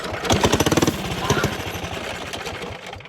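A 270cc stage 2 go-kart engine fires up with a rapid, hammering putter, loud and close, then settles into a rougher idle that sputters unevenly toward the end.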